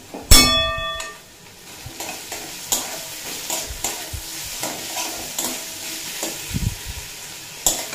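Ginger and green chilli paste fry in a pan with a gentle sizzle while a spatula scrapes and stirs in irregular strokes, and a couple of sharper clanks stand out against the metal.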